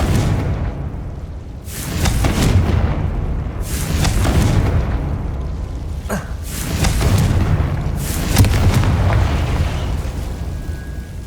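Explosive spells blasting during a Solomon Sallow boss fight in Hogwarts Legacy, a series of heavy booms and bursts arriving about every two seconds, loud with rumbling tails between hits.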